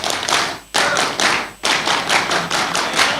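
An audience performs the Indonesian scout rhythmic clap, tepuk pramuka, in a loud hall: bursts of crowd clapping in a patterned rhythm, with short gaps between groups of quick, sharp claps.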